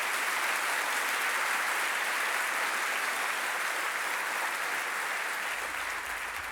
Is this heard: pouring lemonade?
no